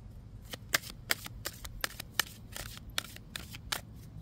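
Tarot cards are shuffled and handled up close, a quick run of crisp snapping card riffles and flicks, fairly quiet and with no talking.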